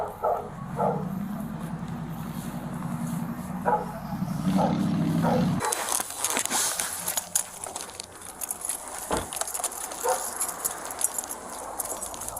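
An aggressive pit bull gives deep, rough barks and growls at close range, irregular bursts at first under a low rumbling noise, then sharper scattered sounds after the noise drops away.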